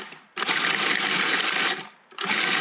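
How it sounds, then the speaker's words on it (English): Stale bread being chopped into coarse breadcrumbs in a food processor, two loud whirring bursts of the motor with a short pause between, close and alone. "So we've got our bread in the food processor."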